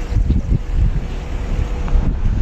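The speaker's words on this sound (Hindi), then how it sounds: "यहाँ पे आवाज सुन रहे हो पानी की, बहुत तेज आवाज है" Fast, glacier-fed river in a Zanskar Valley gorge rushes loudly and steadily, a broad continuous roar with wind buffeting the microphone.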